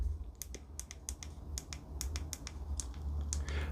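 Sharp, crisp clicks of buttons on a Google Pixel 10 Pro XL phone case repeat in an irregular rhythm, close and fairly quiet over a low background hum.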